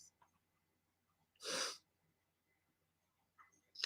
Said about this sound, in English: You watch me sneeze on camera.